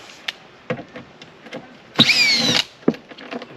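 A power drill whines in one short burst to back out a screw from an RV heat pump shroud, near and loud, set among scattered quiet clicks and handling noises.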